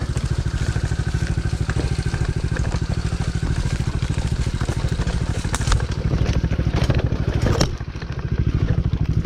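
A dirt bike engine runs steadily under throttle while riding, with a loud, close, buzzing rasp that rises briefly, dips for a moment near the end, then picks back up.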